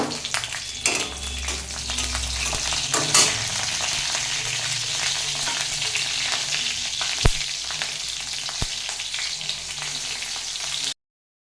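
Whole cumin seeds and green chillies fry in a pan with a loud, continuous crackling sizzle and a couple of brief sharp knocks near the end, heard up close with no voices.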